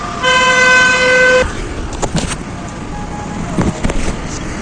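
Car horns honk in heavy traffic on a flooded, rain-soaked road in Hinjewadi, Pune. One long, loud, steady blast sounds first, followed by softer scattered traffic noise and a couple of faint, distant toots.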